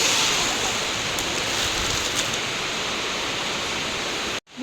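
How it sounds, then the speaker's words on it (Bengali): Heavy rain pouring onto a pond, a dense, even hiss of drops filling the whole scene loudly and steadily before cutting off abruptly at the end, with no voices. "পুকুরের মধ্যেটা দেখছো, মনে হচ্ছে ভীষণ বৃষ্টি হচ্ছে।"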